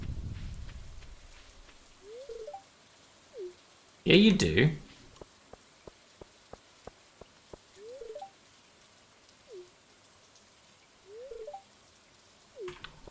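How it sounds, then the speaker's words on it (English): Rain on the metal roof of a trailer in Stardew Valley comes through as faint, scattered ticking drops. A short voiced exclamation and a quick series of sharp clicks break in partway through. "Raindrops are loud on the metal roof of our trailer."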